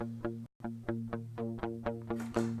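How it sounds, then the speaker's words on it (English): Electric guitar run through a multi-chorus effect on a Headrush looper, a steady repeating pattern of plucked notes with a shimmering, warbling tone, close and clear with no talking. "So we could put the multi-chorus on if we wanted to."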